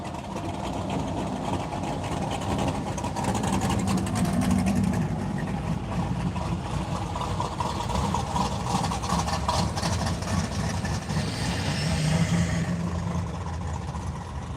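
Cars drive and idle at a rod run, a steady low engine rumble of passing vehicles with a faint murmur of voices in the background.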